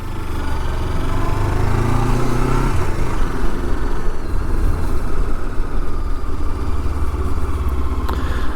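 A 2013 Honda CB500X motorcycle rides slowly around a parking lot, its engine droning steadily and close with low rumble and mild revs throughout, no talk.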